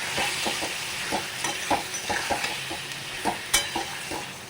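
Loitta fish being stirred in a hot pan, a steady sizzle punctuated by a regular series of close scraping and tapping strokes from the spatula, with no speech.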